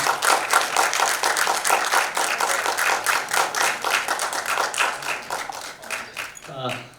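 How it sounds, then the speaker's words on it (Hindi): Audience applause at an awards ceremony, a dense, sustained burst of many hands clapping at close range that fades out toward the end. "जोरदार तालियां"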